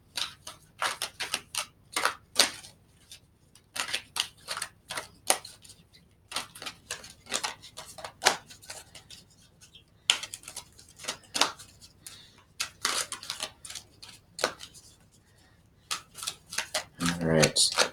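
Oracle cards are shuffled and drawn by hand, producing bursts of dry, close card riffles and snaps separated by short pauses, with a voice talking at times.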